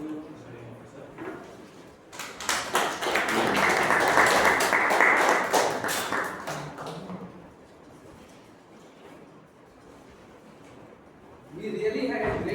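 Members at a club meeting break into a round of applause, a dense burst of clapping that swells for about four seconds, then fades and gives way to quieter talk before another voice comes in.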